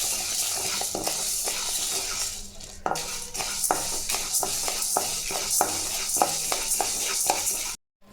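Lentils with spices dry-roast in a pan over low heat for temple-style tamarind rice, giving a rattling, scraping stir of dry grains against metal with repeated ladle clinks, close and continuous until it stops abruptly.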